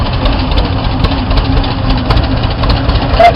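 A restored 1936 John Deere Model A tractor runs at a harvest reunion show, its engine rumbling loud and close in a steady low chug with no voices.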